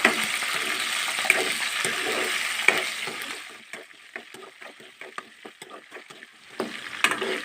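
Green chillies and garlic fry in oil in a pan: a soft steady sizzle, then intermittent stirring scrapes and clicks as the sizzle fades, with no talk.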